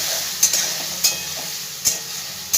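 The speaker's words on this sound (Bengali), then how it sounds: "একটু ভালো করে ভাজা ভাজা করে নেবো একসাথে মশলাটা।" Ginger paste and spices frying with tomato in a pan, a steady close sizzle broken by four or five sharp scrapes of a stirring spoon, with no voices.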